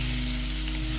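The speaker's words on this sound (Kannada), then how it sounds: "ಆಪಲ್ ಅನ್ನು ಅಷ್ಟೇ ನಾನು ಸ್ವಲ್ಪ ಫ್ರೈ ಮಾಡ್ಕೊಳ್ತೇನೆ" Apple pieces fry in a pan with a steady, dense sizzle that stays loud and even throughout the short moment, close up and with no voices.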